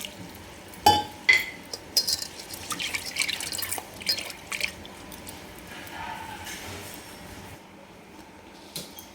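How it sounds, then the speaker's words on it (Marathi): Toor and masoor dal is washed in water in a kitchen, with scattered splashes, drips and swishing clinks rising and falling irregularly. "तर डाळ आता छान आपण धुवून घेतली आहे दोन पाण्याने"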